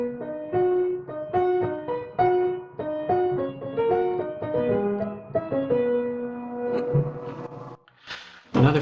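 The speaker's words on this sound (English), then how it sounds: "for Michael Haydn's rondo sounds like this." Orchestra playing the recurring A theme of Michael Haydn's rondo, a light, bouncy melody of short detached notes in a steady rhythm, moderately soft, with a brief noisy burst at the end.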